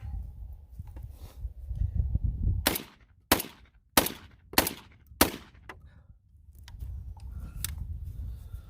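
AR-12 style magazine-fed shotgun firing five rounds in quick succession, loud close blasts in a steady outdoor rhythm, with breezy background noise before and after.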